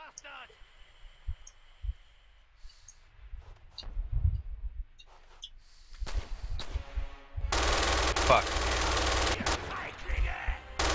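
Automatic gunfire in a video game battle, a few scattered shots at first, then a dense, sustained rattling burst that runs to the end, with players talking over it.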